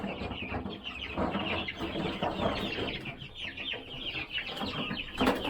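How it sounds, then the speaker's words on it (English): A nosy hen clucking inside a farm coop, repeated short clucks and low murmurs close by, with other chicken sounds and faint rustling around her. "I've got one hen that's just as nosy as all get out. And you can hear her in here."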